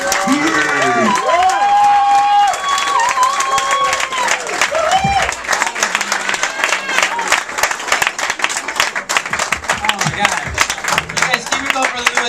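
Studio audience at a comedy show applauds and cheers loudly, a dense sustained wash of clapping that continues throughout, while a host speaks over it and is heard clearly at the start.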